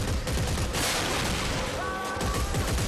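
Rapid bursts of gunfire from the sci-fi shooter Dead Space 3 in co-op campaign play, dense and loud throughout with overlapping shots and a busy game soundscape.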